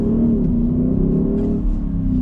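An Audi SQ7 in S1 dynamic mode pulls away, its engine rumbling close and loud with rising revs over a couple of seconds.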